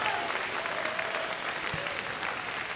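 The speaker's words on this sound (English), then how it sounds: "So let's give them a round of applause for their performance at this event." Audience at a Team Fortress 2 LAN tournament final claps for Team Immunity, a sustained dense round of applause filling the hall at moderate loudness.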